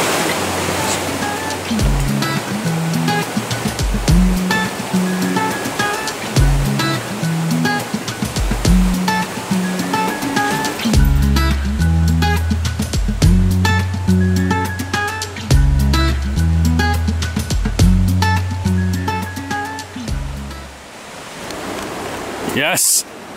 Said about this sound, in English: we made it to a little creek that meets the big creek and becomes a river and then a lake.